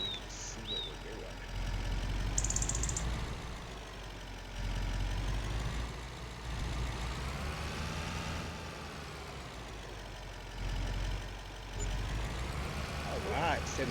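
Truck in the Farming Simulator 25 game hauling a bale trailer on a farm map, its engine droning steadily at a moderate level throughout, rising and easing with throttle, with faint beeps near the start and no talk over it.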